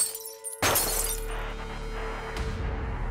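A sniper round smashing into bulletproof glass in the video game Yakuza Kiwami 2, heard as one sudden loud shattering crack with a long ringing tail of glass debris, followed by a fainter second impact.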